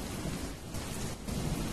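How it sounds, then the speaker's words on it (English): Heavy rain with rolling thunder in a video game, a dense, loud, continuous roar of downpour and low rumble with no voices. "It's raining!"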